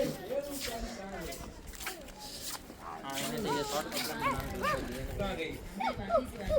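A dog barks in short repeated yaps under steady, close conversation, the barks moderately loud and spaced irregularly through the background of voices.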